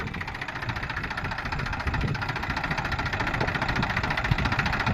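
A farm tractor engine runs steadily in a cotton field, a loud, continuous rumbling drone with a slight rhythmic knock, close by and without talk.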